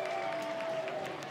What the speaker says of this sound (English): From the wing, Ledman with a laser, and he fires up this Duke crowd